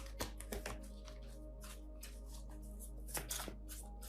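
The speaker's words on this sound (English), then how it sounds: "I'm just going to shuffle till it feels right" Tarot cards being shuffled by hand, with soft riffling and a few sharp taps and snaps near the start and again around the three-second mark, close and fairly quiet over a steady low hum.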